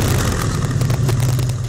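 A mid-engined De Tomaso Pantera breathes through very short headers, short exhaust pipes and a small box silencer, giving a loud, close, steady deep rumble for under two seconds.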